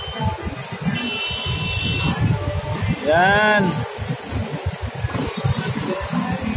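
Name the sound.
busy road traffic, cars and motorcycles passing from Baclaran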